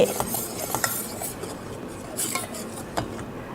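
A utensil stirs red liquid in a pot as it cools, producing scattered light scrapes and clinks at an irregular rhythm, close and fairly soft, with no voices.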